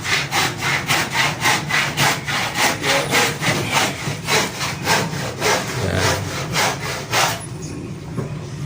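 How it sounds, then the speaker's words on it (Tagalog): Hand saw cutting wood for concrete formwork at a building site, loud rhythmic back-and-forth rasping strokes, about two per second, close up and ending near the close. "Naglalagari sila ng pangpurma"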